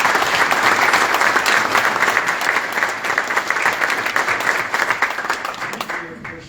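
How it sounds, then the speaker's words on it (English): Loud audience applause at a county commissioners court meeting, sustained crowd clapping that gradually thins and tapers off, with some voices mixed in toward the end. "How about let's give them a big round of applause."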